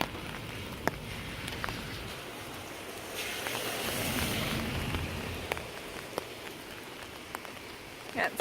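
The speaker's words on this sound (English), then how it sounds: "The rain has started and it is Sunday, September 10th." Steady rain falls during Hurricane Irma, a dense, even hiss of drops on outdoor surfaces with a few sharper nearby drips and taps, swelling slightly midway, with no voices.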